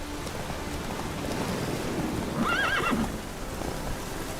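Roach the horse neighs in The Witcher 3, a clear rising whinny standing out over steady rain-like ambience and soft hoof clops, at moderate distance.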